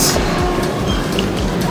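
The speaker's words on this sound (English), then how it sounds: "We have finally reached railway station. This is our train." Train noise at a railway station as passengers board: steady low rumble with faint rhythmic clatter, continuous and fairly loud.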